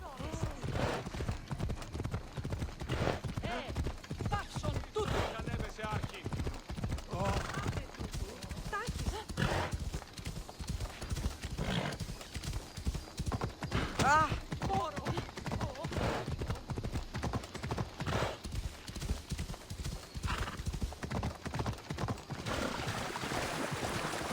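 Steady rhythmic clip-clop of horse hooves in the video game Assassin's Creed Odyssey, with a person talking over it and occasional whinnies.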